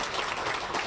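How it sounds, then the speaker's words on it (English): Applause for a township receiving a community prosperity award, a brief, dense burst of clapping from a crowd at moderate distance with no voices over it. "Let's give them a round of applause."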